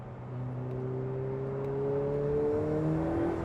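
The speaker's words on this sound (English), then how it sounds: "you get the turbo whines and the spools as the turbos start to spool up" A stock Ferrari 488 Pista twin-turbo V8 pulls hard under acceleration, its engine tones climbing steadily with a rising turbo whine over about three and a half seconds, loud and close with no talk.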